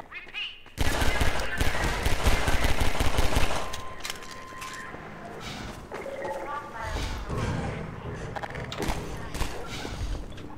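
Rapid bursts of gunfire from the Half-Life 2 video game, loud and dense in the opening seconds, then scattered shots and game effects continuing under in-game voices.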